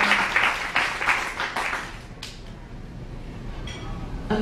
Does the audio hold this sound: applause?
yes